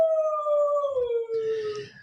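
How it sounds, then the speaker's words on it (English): A mixed-breed mutt dog howls in one long sustained wail that slides downward in pitch, close and clear, ending with a brief softer whine. "The dogs are barking."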